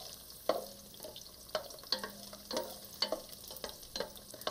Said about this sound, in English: Garlic is toasting up nicely.